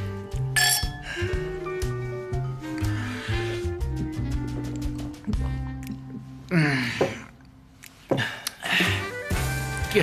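Glasses clink together during a celebratory toast at a gathering, with several bright chinks over busy background noise, music and chatter.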